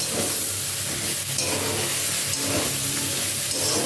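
Vegetables are stirred in a frying pan with turmeric, cumin and coriander powders, salt and Kashmiri chilli powder, giving a continuous close, loud sizzle with scraping stir sounds throughout and no voices.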